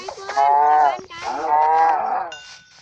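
Two long, drawn-out cow moos in the video game Minecraft follow one another, loud and close, with a brief higher electronic tone at the end.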